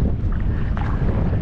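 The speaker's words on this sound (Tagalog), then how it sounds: "Sobrang lakas ng hangin." Strong wind in a mangrove area roars and buffets the microphone in a continuous, heavy low rumble, close and loud, with no voices.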